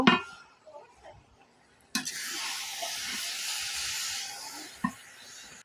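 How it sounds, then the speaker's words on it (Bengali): Taro greens in a pot get stirred with a metal spatula after the lid comes off: a few soft clinks, then a sharp clatter and a sustained steamy hiss with scraping, another knock near the end; close by, no talk. "এবার আমি ঢাকনা নামিয়ে নিলাম আর এবার একটা খুন্তি দিয়ে নাড়া দিব"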